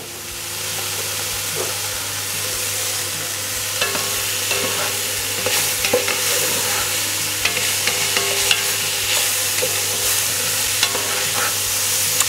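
Meat pieces browning with a knob of butter in their own juices in a pan for Flemish carbonade, a steady broad sizzle with stirring scrapes and clicks, loud and close with no talk.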